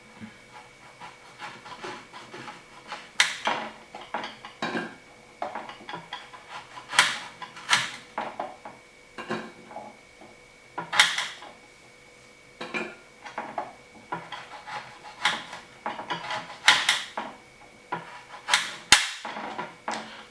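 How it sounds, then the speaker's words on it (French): Kola nuts being cut in half with a knife while preparing rum arrangé: sharp, irregular clicks and woody knocks close by, coming in small bursts separated by brief pauses, with no talking. "Après, on découpe les noix de cola"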